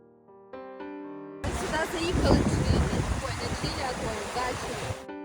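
Strong gusting wind in the Carpathian mountains near Dzembronia. A few soft musical tones give way to a loud, full roar of wind buffeting the microphone for several seconds before it cuts off.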